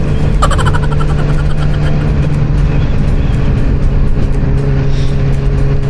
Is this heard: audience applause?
no